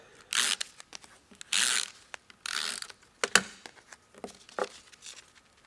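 A mono adhesive tape runner is drawn across card several times, each pass a short, close, rasping ratchet-and-peel burst, separated by quiet pauses and small clicks.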